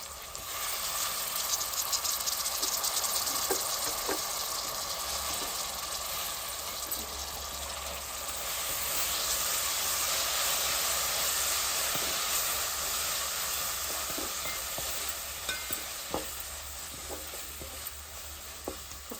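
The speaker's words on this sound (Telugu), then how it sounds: "ఇప్పుడు ఉల్లిగడ్డలు పచ్చిమిర్చి మగ్గే కాబట్టి ఈ రొయ్యలు అయితే వేసుకోవాలి వేసుకొని కలుపుకోవాలి" Prawns sizzle in oil in a pan with softened onions and green chillies, a steady close hiss of frying with occasional crackles and stirring scrapes, running continuously without talk.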